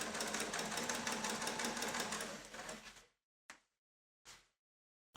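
A sewing machine topstitches through the thick layered denim of a jeans waistband, a steady close mechanical whirr for about three seconds, then two short separate bursts of stitching.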